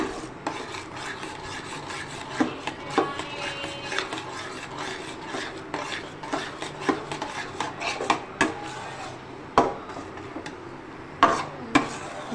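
A spoon scraping and stirring thickening besan (gram flour) batter in a pot, with repeated rasping strokes and occasional sharper clinks against the metal, close and fairly quiet, with no talk.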